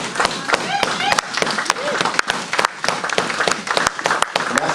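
A church congregation bursts into applause, dense overlapping claps with sharp individual hits and a few voices mixed in, continuing steadily.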